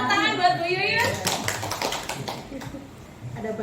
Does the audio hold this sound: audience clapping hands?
yes